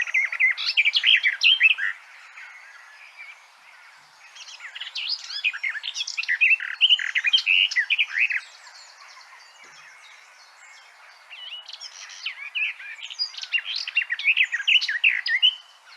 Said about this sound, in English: It's one of the plainest of our warblers, but I hope you can agree that it's got a beautiful song